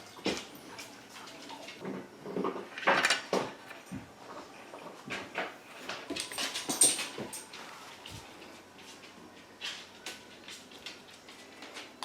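Dogs whimpering and whining in the background, with bursts of restless panting, scuffling and snuffling at moderate distance.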